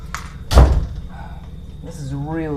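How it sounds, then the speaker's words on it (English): A door is shut indoors during work on an IBM PS/1 computer, one loud close thud early on, with a voice heard faintly afterward. "can you shut the door, please?"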